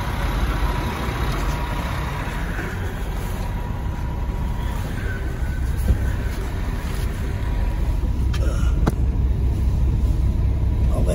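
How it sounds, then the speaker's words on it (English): Refrigerated trailer reefer unit set to minus 10 starts up and runs, giving a steady, loud engine drone with a broad rumble that holds level and swells slightly toward the end. "turn the reefer on to minus 10. So let that boot up for a second"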